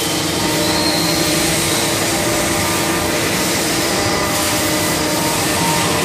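A Haas SL-30M CNC turning center, a 2005 live-tool machine, runs its spindle at 1500 RPM with a steady, dense mechanical whir and hum, loud and unbroken throughout.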